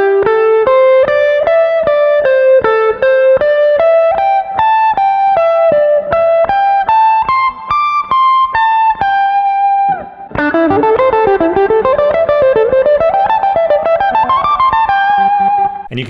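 A distorted electric guitar plays a slow stepwise scale run, each note ringing clearly, then shifts into a faster descending and ascending pattern, loud and alone.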